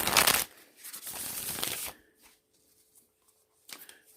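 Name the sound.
shuffling a deck of cards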